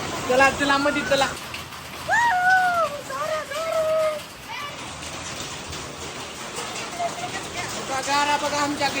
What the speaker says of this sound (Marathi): गारा बघा आमच्या घरी, गारा गारा गोळा करला गारानी